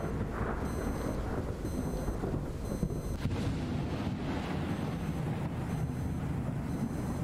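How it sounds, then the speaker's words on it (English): Thunderstorm with steady heavy rain and rolling thunder in the video game Lorelai, a dense continuous downpour with low rumbles swelling underneath, loud and close, with faint tonal game sounds in the background. "What a storm. After such a beautiful sunny day."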